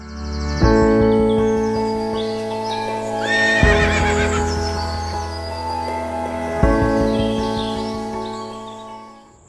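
A team of Percheron draft horses out driving on a farm neighs loudly several times, with hoofbeats and harness sounds running underneath and birds chirping faintly in the background.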